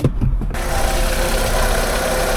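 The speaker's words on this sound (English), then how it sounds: "But it sounds alright. Typical Fiat engine." A Fiat car engine idles steadily at close range under an open bonnet, a continuous low mechanical hum with a slight rhythmic knock, after a brief rustle at the start.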